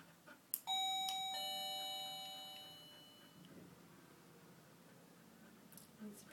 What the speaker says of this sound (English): So next time, just ring the doorbell again if she doesn't go.